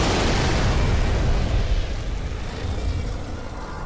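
Explosion destroying a cache of guns in Fallout New Vegas, heard as a loud roaring blast whose rumble and crackling debris fade gradually over a few seconds, with no one talking.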